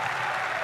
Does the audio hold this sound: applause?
yes